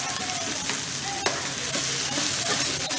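Rice being stir-fried for nasi goreng, a steady dense sizzle and crackle in a hot pan with scraping stirs and a sharp clank of the utensil partway through.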